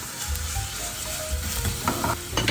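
Grated garlic sizzles in a tablespoon of sesame oil in a hot frying pan, a steady close crackle with light stirring scrapes and clinks, no voices.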